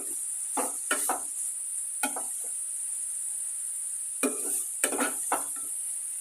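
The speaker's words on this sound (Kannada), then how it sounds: "ನೋಡಿ ಹುರ್ಕೊತೀನಿ ಚೆನ್ನಾಗಿ ಸಾಫ್ಟ್ ಆಗೋವರೆಗೂ ಹುರ್ಕೋಬೇಕು" Grated carrot for carrot halwa is stirred and fried in a pan, giving bursts of scraping and stirring over a steady high sizzle. There is no talk.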